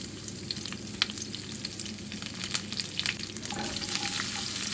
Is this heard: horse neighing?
no